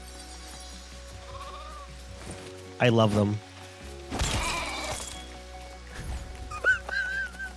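Blocky sheep in the Lego Fortnite video game bleat in short bursts amid steady game background sounds, while players talk over and between the calls.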